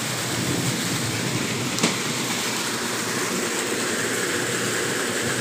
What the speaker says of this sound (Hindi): बारिश आवत है एकदम